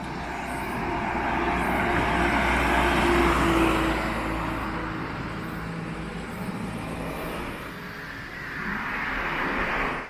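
A car on a country road in rural Japan rolls past with a broad, rushing road noise that swells, peaks and slowly fades, then a second vehicle builds in toward the end, with steady background traffic rumble throughout.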